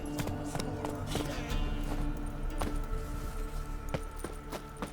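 Roach the horse's hooves clip-clopping in The Witcher 3 video game, a steady rhythmic run of sharp hoof taps at moderate volume over a continuous ambient background.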